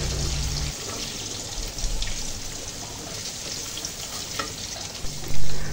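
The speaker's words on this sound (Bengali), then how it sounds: "মাছগুলো বেশি পুরা করে ভাজবো না, হালকা করে ভেজে নিব" Hilsa fish pieces lightly frying in a pan, a steady close sizzle with faint stirring noises, no talking, and a brief louder knock near the end.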